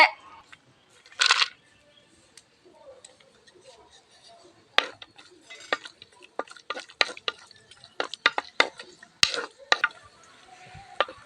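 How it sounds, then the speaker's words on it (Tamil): Cashews frying in ghee for a Tamil milk payasam, stirred in a pan: an early burst of sizzle, then a run of sharp utensil clicks and scrapes against the pan with soft frying hiss between them, close and moderately loud. "முந்திரியே நல்லா சிவக்க வறுத்துக்கிட்டா போதுங்க"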